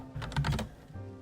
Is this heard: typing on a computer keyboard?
yes